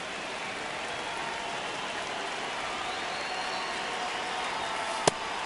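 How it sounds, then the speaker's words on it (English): Heavy rain falls on a baseball stadium during a Major League game's rain delay, a steady, even hiss of downpour heard at a distance, broken by a single sharp thump near the end. "We're going into a rain delay, and I have a feeling this is going to be a long break, Singy."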